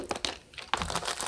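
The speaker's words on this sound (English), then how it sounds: "with the diamonds in the kit comes the little plastic bag to hold the diamonds" A small plastic baggie that holds the diamonds from a diamond art kit crinkles and rustles up close in several quick bursts, with no voice.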